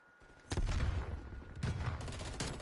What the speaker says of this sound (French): Grenade à fragmentation envoyée.